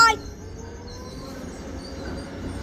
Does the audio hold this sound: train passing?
yes